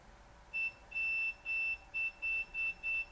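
A multimeter in continuity mode checking capacitors on a Racerstar 35A ESC gives a series of short high electronic beeps, seven quick tones of uneven length in close succession, clear over a quiet background.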